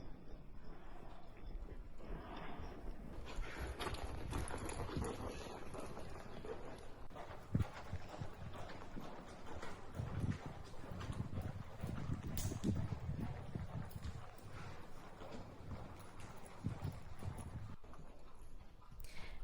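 A hot-headed barrel-racing mare works an extended trot at home, her hooves beating a quiet, steady clip-clop rhythm under light wind noise on the microphone.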